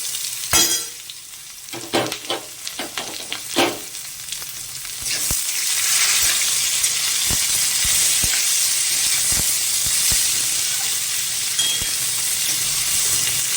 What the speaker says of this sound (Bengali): পেঁয়াজ রসুনটা আমার ভাজা হয়ে গেছে